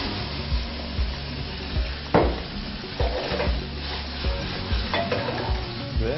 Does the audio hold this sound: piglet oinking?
no